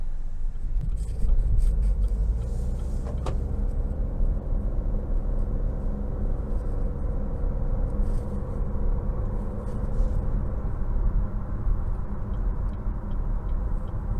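A Chevrolet Trailblazer with a 1.3-liter turbo engine pulls out of a dealership parking lot. A low, steady engine rumble and road noise sit under light cabin ticks and small knocks throughout.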